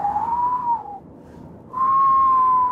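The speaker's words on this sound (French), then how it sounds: "le vent siffle en permanence" Wind whistles through rock galleries: a steady, high tone rises and holds, dips away briefly, then returns louder and sustained, keening through narrow openings.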